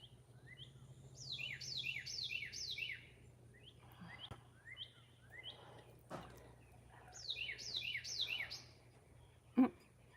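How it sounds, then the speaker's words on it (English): Birds sing outdoors on an evening after seven, bright chirping phrases repeating in clusters at moderate distance, with a faint steady hum underneath and one sharp knock near the end. "You hear the birds?"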